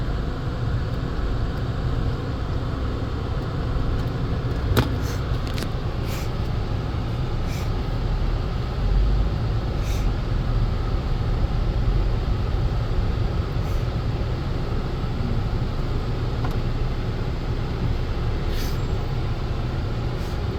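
A 2015 Chrysler 200 on a test drive, heard from inside as a steady low road and engine rumble with faint clicks and ticks over about twenty seconds, with no talk.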